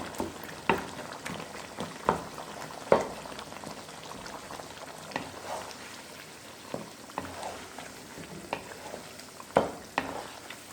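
Tomatoes being mashed with chicken pieces in a karahi for Peshawari charsi chicken, with a steady low sizzle and sharp intermittent scraping and clacking strokes of the utensil against the pan.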